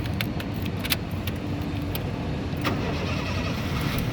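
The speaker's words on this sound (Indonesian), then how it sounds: "berikutnya sekarang kita coba nyalakan mobil ya." A 2007 Honda Jazz 1.5 i-DSI automatic starts up, its engine catching into a steady close running drone with faint metallic clicks over it, and no talking.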